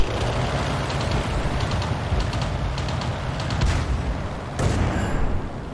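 Cannon fire from tanks in World of Tanks, heavy booms and shots repeating over a constant rumble of engines and battle noise, loud and dense throughout.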